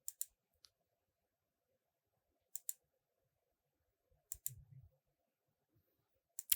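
Keys on a computer keyboard are tapped in short, sparse bursts of two or three clicks with quiet gaps between, close and faint, alone with no talk.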